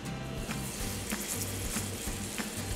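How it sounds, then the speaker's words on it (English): Steady sizzling of turkey slider patties frying in a hot pan with canola oil, a continuous crackle with faint low clunks, close and fairly quiet. "You wanna hear that sizzle."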